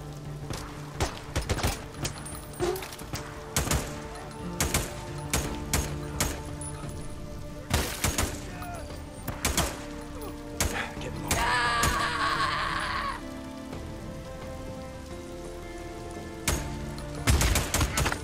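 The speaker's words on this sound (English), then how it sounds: "That's, that's a shotgun." Gunfire in the post-apocalyptic game Days Gone: a rapid series of loud, sharp shotgun blasts and other shots across the scene, with a burst of noisy action in the middle.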